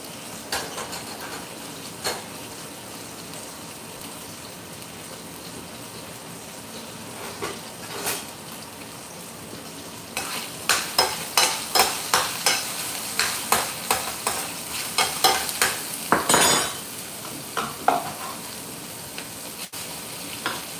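A red wine reduction cooks in a pan, with quiet simmering early on giving way to louder, repeated scraping and stirring strokes with a sizzle underneath. No one speaks.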